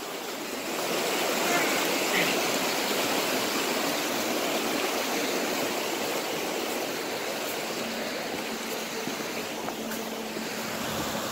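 A loud, steady roar of a waterfall in a wet forest pours continuously, close by and unbroken throughout.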